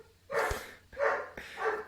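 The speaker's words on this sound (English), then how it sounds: "Sorry about my dog barking." A dog barks three times in an indoor room, each bark close and fairly loud, evenly spaced with short gaps between them.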